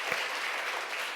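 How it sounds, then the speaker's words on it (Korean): A church congregation at a Friday prayer meeting claps briefly, a faint, distant patter of applause in a short burst with no voices over it. "박수 치세요."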